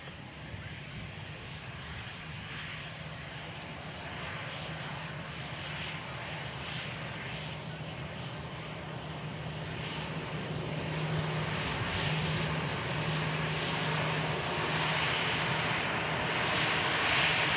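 An Airbus A320 airliner lands and takes the rapid runway exit, its engine roar continuous and broadband, growing steadily louder toward the end, with no talk over it.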